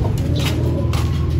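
Racing pigeons fly in during a pigeon derby in Rosario, La Union, with soft wing bursts and cooing against a low steady hum, at moderate distance and without speech.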